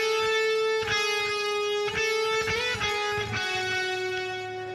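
Electric guitar plays a melodic phrase from the Spy x Family ending song, single plucked notes ringing on one after another with a clean, slightly effected tone, alone and close.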